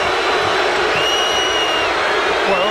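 A basketball arena crowd at a 1994 Utah Jazz vs Houston Rockets game roars and boos in a dense, sustained wash of disapproval after a referee's call, with a commentator's voice running underneath.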